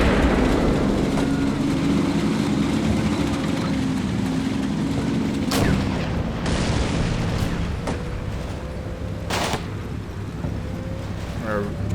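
Combat in the wargame Combat Mission Black Sea: low rumbling battle noise with a few distinct sharp bangs and booms of gunfire and explosions, steady and fairly loud throughout.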